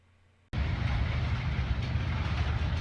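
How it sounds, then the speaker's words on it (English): A train passes close by, its roar starting abruptly and then holding as a loud, dense rumble with steady wheel and rail noise. "Friggin' train passing by."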